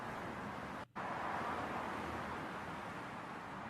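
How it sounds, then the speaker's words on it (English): Highway traffic roars as a steady broadband wash of passing vehicles, constant and fairly loud, with one brief dropout near the start. "This is a highway sound."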